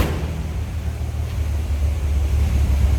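A cold-blooded 1949 Chevrolet pickup with an inline six and dual exhaust idles steadily, a low rumbling drone with some wind noise across the microphone, no talking.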